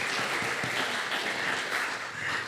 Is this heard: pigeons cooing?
no